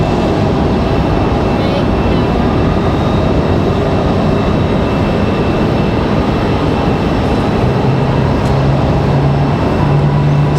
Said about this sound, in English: That 777 departing just in time for you guys to get a nice, good close-up